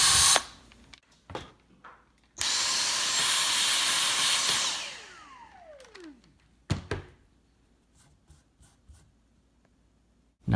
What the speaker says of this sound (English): slowly and carefully drill a hole through the entire board